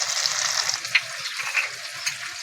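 Small bata fish fry in hot oil with a continuous crackling sizzle and scattered sharp pops, fairly close and steady throughout.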